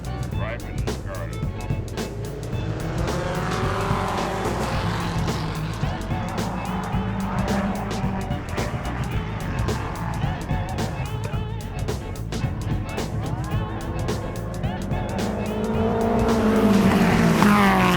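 A 1947 Curtis race car runs on a track, its engine a loud continuous roar with occasional tire squeal, building louder near the end while a commentator talks over it.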